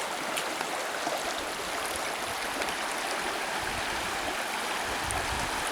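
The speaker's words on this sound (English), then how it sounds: "Listen to the relaxing sound of creek water." Creek water flows with a continuous bright rushing and trickling wash, close and steady from start to finish with no voices.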